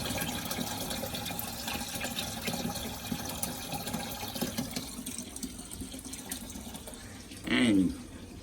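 Water running steadily from a hose or tap into an aquarium, a soft continuous rush, with a brief louder gurgle near the end.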